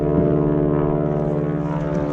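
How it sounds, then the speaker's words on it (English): A floatplane's propeller engine drones steadily past a canoe on a sheltered lake, a loud, even hum with strong harmonic bands that holds through the whole stretch with no talk over it. "On a float plane, let it get by us."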